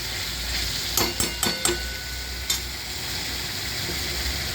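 Meat pieces dropped into hot oil with masala, giving a steady sizzle with a few sharp clatters of stirring near the start, then continuing frying hiss alone.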